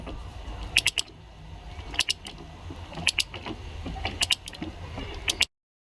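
A torque wrench ratchets as the headstock nut of a Triumph Trophy motorcycle is tightened to 90 Newton meters, with short metallic clicking bursts in an uneven rhythm over low background rumble, close by.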